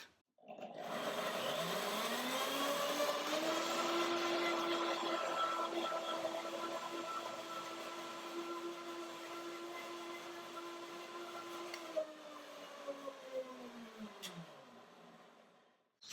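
A blender motor runs steadily for over ten seconds blending cashews and banana into ice cream, with a rising then steady whirring pitch, winding down near the end.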